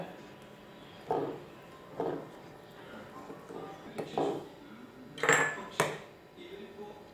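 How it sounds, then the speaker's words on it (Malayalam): Ottada batter with baking soda stirred in a bowl: a series of spoon clinks and scrapes against the bowl, spaced about a second apart and fairly close, over a quiet background. "നന്നായിട്ടൊന്ന് മിക്സ് ചെയ്ത് കൊടുക്കുക"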